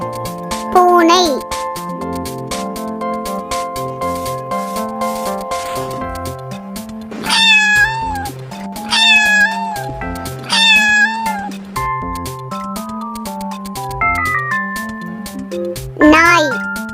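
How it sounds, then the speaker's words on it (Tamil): A house cat meows several times, with clear rising mews spaced out over a bouncy synthesized music track and a final meow at the end. "பூனை."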